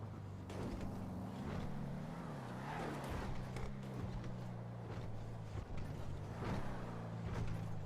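A car drives in a roleplay video game, its engine giving a steady, moderately quiet drone with a faint mechanical rattle throughout and no breaks.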